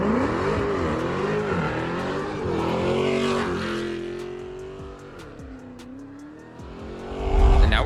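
Engine of a Dodge Challenger Scat Pack with a big naturally aspirated V8, roaring at steady volume and rising and falling in pitch as it revs, ending in a louder low surge.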